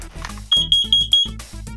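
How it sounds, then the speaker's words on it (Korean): Carbon monoxide alarm, likely in a closed space where ice-fishing heaters are used, sounding a run of loud, close, high-pitched beeps in quick succession, briefly broken by other short tones. "그래서 필요한 게 바로 이 일산화탄소 경보기인데요"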